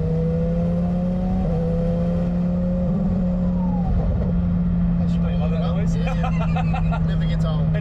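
A modified Lamborghini Huracan Performante engine holds a loud, steady droning rev with a brief pitch step, over a background of crowd chatter and babble.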